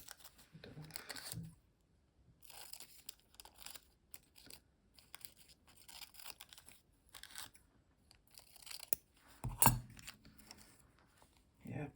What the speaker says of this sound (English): Perhaps it's a little too big. I can try to cut a little of it off.